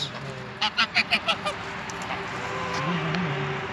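Geese and ducks honk in a quick run of about six loud calls while being fed in a village yard, followed by a steady murmur of birds and background noise.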